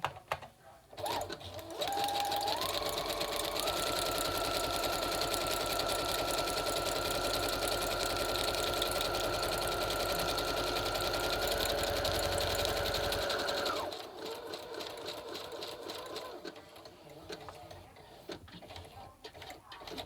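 A sewing machine runs a steady zigzag stitch through book-page pockets for about twelve seconds, loud and close, with a rhythmic mechanical whir that stops abruptly, followed by quieter handling noises.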